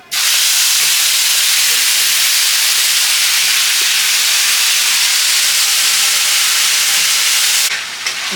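Ginger and green chili paste dropped into hot oil for a rohu fish head muri ghonto, bursting into a loud, hissing sizzle that holds steady and close before easing slightly at the end.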